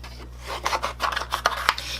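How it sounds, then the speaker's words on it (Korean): Scissors cutting a paper shape for a craft snowman's body, a series of short rasping snips in close succession, near and fairly quiet. "우선 기본 쉐입 먼저 쭉 자르고 그 다음에 디테일은 들어가겠습니다"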